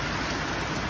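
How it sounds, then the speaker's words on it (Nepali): Wind and rain outside a canteen make a dense, steady hiss of rainfall with no breaks, loud and close throughout. "हावा पानी आइरहेको छ"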